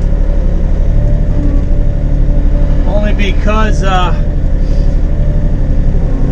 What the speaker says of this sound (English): And I'm gonna haul it out there with the tractor.